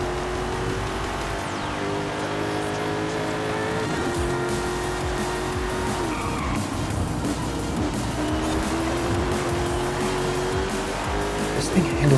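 A Ford F-150 Lightning truck converted to front-wheel drive with almost 600 horsepower is heard in a racing video game, a steady engine drone with tire squeal while cornering, and a voice talking over it.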